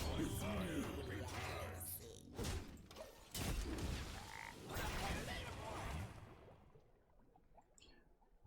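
Frog croaks from a digital card video game ring out amid dense, layered game sound effects, loud and busy at first, then thinning to a faint tail.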